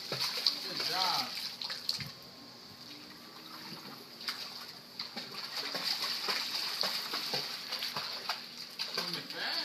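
Young children swimming in a pool, kicking and paddling with a continuous soft churn of splashing water, moderately close, with voices and talk over it.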